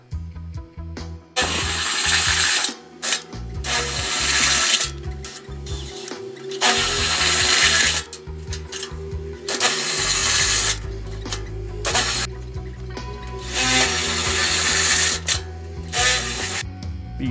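A power drill boring holes into a steel burn barrel, loud and close, in repeated bursts of whining, grinding drilling separated by short pauses, with no talk.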